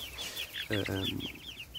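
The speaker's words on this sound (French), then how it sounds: "Il y a 5 poules Favrol et un coq" Several Faverolles hens cluck and chirp in short, high bursts while a Faverolles rooster adds a lower, throaty call midway, all close and steady.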